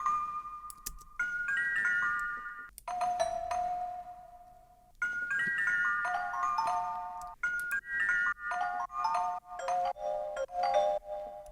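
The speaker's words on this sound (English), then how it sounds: "I've chosen the preset just normal handbells, added an RC20 with some noise, a very slight bit of vibrato, and some two pair distortion" Synth handbell preset layered with noise, slight vibrato and distortion and washed in a long 2.4-second reverb, playing a bright chiming melodic phrase of sustained bell tones that ends in shorter repeated hits.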